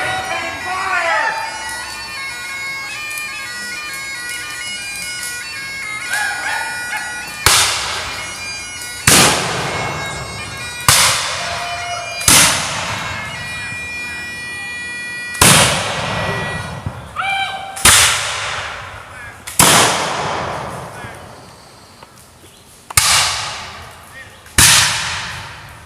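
Reenactment musket fire from advancing skirmishers at a battle reenactment, with about a dozen sharp, loud shots spaced a second or two apart, each trailing off, over faint background sound and ringing tones.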